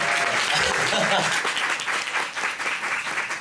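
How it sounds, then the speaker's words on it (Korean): Audience applauding at a closing-ceremony celebration performance, a dense wash of clapping that thins toward the end, with faint voices underneath. "박수 한번 주시죠"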